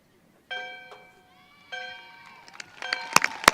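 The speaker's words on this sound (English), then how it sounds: "our incoming Red Pepper Cayenne to ring the bell to celebrate the graduating class of 2025." A ceremonial bell rings at a stadium graduation ceremony for the Sikeston High School class of 2025: two sustained ringing tones, each with a clear lingering tone, followed by crowd noise and sharp bursts of applause and cheering.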